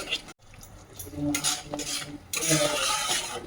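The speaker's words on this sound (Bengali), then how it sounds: "এটাকে দিয়ে ভালো করে আবার নাড়াচাড়া করতে হবে এটা বেশিক্ষণ টাইম নাড়াচাড়া করতে থাকতে হবে" A spoon scrapes and clinks against a pan while vegetarian Kashmiri paneer masala is stirred over medium heat, with a steady run of metallic scraping and light knocks and no talking.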